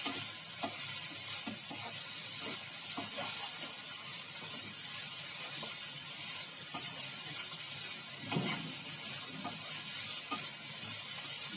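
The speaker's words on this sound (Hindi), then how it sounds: "अब हम इसको बीच बीच में चलाते रहेंगे जब तक कि ये गल नहीं जाता" Potato and pea peel vegetable cooks in a pan with a continuous close sizzle, while a spoon stirs it in soft, regular scraping strokes throughout, no voice present.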